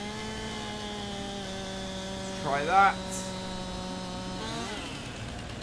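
Chainsaw cutting down a tree in Farming Simulator 19, heard as a steady droning engine tone running throughout, with a brief pitch shift near the end and someone speaking briefly over it.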